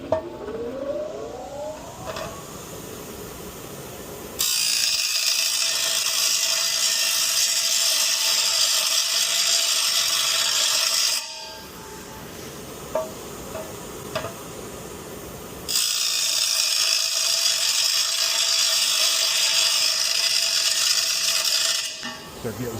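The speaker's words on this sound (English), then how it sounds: "I'll hit that on the grinder, make all kinds of noise here." Grinder on an aluminum driveshaft tube yoke in a workshop, loud broadband grinding in two long bursts separated by quieter pauses with small clanks and tool noise.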